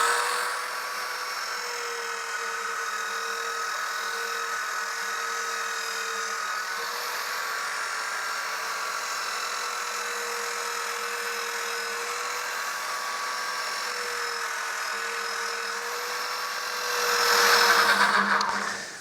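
80 grit sandpaper works over a Piper Archer model airplane, giving a steady, continuous whirring hiss that holds level for nearly twenty seconds and swells briefly louder near the end.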